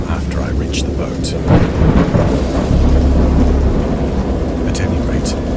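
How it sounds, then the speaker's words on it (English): Thunderstorm in the game Dagon, a loud rumbling peal of thunder rolling low under steady heavy rain, with the rumble swelling in the middle and easing off toward the end. "I know that I heard pearls of thunder"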